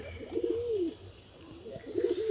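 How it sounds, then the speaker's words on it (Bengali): A male khaki pigeon coos twice, low rolling calls close by, with faint chirps from other birds in the background. "খাকি নটটা কী ডাকা রাখতেছে দেখতে পাচ্ছেন"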